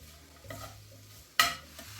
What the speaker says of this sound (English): stirring around the pan in the hope we get all those wonderful flavours that are stuck to the bottom of the pan